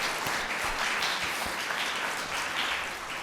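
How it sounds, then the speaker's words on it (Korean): A church congregation applauds during an anniversary revival service, a sustained even roar of many hands clapping together at moderate loudness, unbroken for around three seconds with no talking. "우리 한번 박수해 드립시다"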